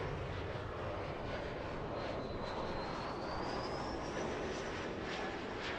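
A Boeing 777 airliner taxiing at LAX gives a steady, loud jet engine roar that fills the whole span, with a thin rising whine running over it.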